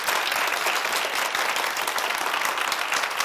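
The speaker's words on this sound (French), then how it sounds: "Applaudissements pour vous," Lively audience applause at a comedy TV show, dense, loud clapping from a crowd that runs steadily without pause across the whole stretch.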